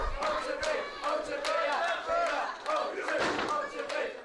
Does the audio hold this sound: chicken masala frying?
no